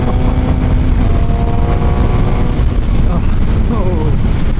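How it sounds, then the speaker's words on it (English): A Suzuki GSX-R 750 motorcycle cruises down the road, its engine giving a steady buzzing drone with rising induction notes near the end, under heavy wind rush and a voice talking. "that induction noise"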